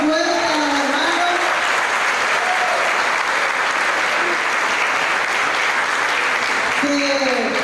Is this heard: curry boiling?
no